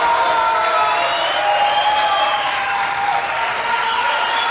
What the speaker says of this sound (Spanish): Aplausos para el número 3, Enrique.